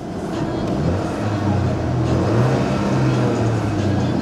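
A Chevrolet Cruze engine hums and rises in pitch as it revs, a steady close drone that builds gradually, with no voices over it.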